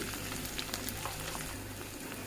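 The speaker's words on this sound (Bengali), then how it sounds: "ভালো করে ভেজে নিব পেঁয়াজের সাথে আদাটা ভাজা হয়ে গেছে" Onion and ginger fry in oil in a pan, a soft, steady crackling sizzle that stays fairly faint and continuous over a couple of seconds, with no voices.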